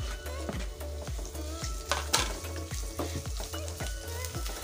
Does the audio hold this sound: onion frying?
yes